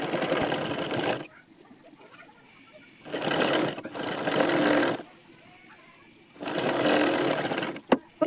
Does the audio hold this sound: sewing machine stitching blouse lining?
yes